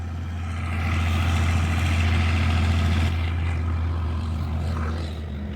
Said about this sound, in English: we're going to pause right now because we've got a tractor coming on